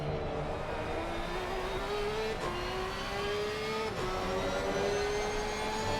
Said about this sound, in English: hear that flat 6 engine roar momentarily there, as it was at full chap down the back straight